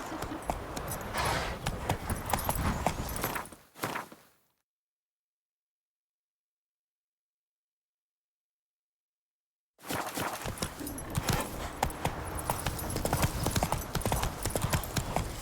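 Roach the horse trotting in The Witcher video game, rhythmic hoof clip-clops on ground for several seconds, then a stretch of total silence before the hoofbeats resume, close and clear.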